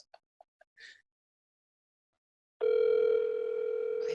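A telephone call plays through a phone's speaker, a steady electronic tone that starts abruptly after a few faint clicks and a quiet breath, continuous and moderately loud.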